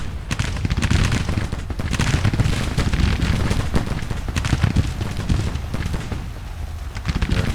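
Continuous heavy gunfire and booming artillery from a Civil War battle in the strategy game Grand Tactician, a dense, loud barrage of overlapping shots and blasts sustained without pause.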